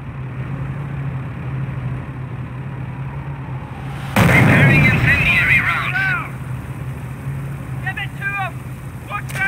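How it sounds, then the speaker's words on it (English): Missile barrage in the PC war game Company of Heroes (2006): a sudden loud burst of launches and explosions halfway through, over a low steady engine hum, followed by rising whistling streaks of incoming rockets. "Continue to barrage the enemy squad until they are defeated."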